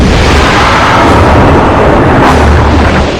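A cosmic explosion, like a massive asteroid impact, roars as a loud, continuous rumbling blast that fills the whole clip with dense low boom and broad noise, swelling slightly midway.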